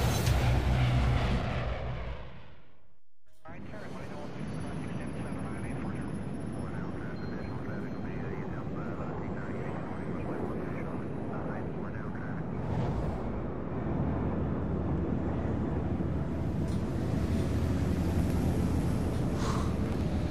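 A steady airplane engine drone in flight in Splinter Cell Blacklist, following a brief silent gap and then holding as a continuous, moderately loud hum with people talking over it.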